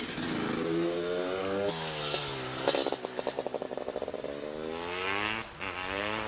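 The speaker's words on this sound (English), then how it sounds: "Followed by Mike Tilley on this Honda 280." A Honda 280 motorcycle races uphill at the Prescott hill climb, its engine note climbing and dropping through gear changes with a stuttering burst of rapid pulses in the middle, loud and fairly close.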